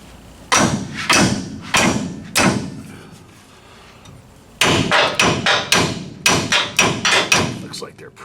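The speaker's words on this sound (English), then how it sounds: "knock my U-bolts around a little bit" Hammer blows knocking the U-bolts on the rear lift of a Ford F100 truck: four loud, evenly spaced strikes, a short pause, then a rapid run of about a dozen sharp metallic hits close by.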